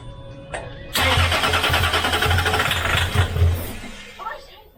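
A Land Rover Discovery engine under restoration cranks and catches after failing to start, then runs loudly with a rough idle and a few revs, close by.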